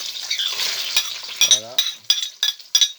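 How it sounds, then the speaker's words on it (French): Onions, garlic and shallot sauté in a frying pan with a veal fillet nearby, a sizzling hiss broken by repeated sharp scrapes and clinks of a utensil stirring against the pan, close and moderately loud, with no talking. "On va venir y mettre nos oignons, notre ail et notre échalote à revenir."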